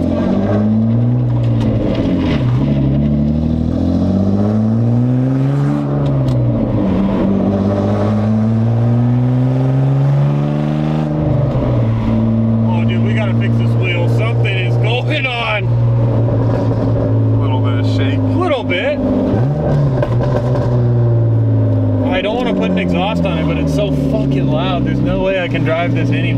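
A BMW E36 with a swapped M52 engine revs loudly up close, its exhaust note rising and falling in repeated swells over a droning idle, while people talk excitedly over the sound.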